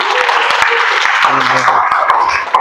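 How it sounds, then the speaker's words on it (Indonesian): A group claps for Kanza, a participant in a medical lecture on medical records and confidentiality: a steady wash of clapping throughout, with a voice talking over it. "aplaus sudah buat Kanza"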